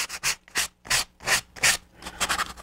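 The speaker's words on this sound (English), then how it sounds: "I'm going to go back to my fine sandpaper now and smooth it out." Fine sandpaper rubs over a model airplane cowling in about eight short, close back-and-forth strokes, crisp and scratchy, with no voices.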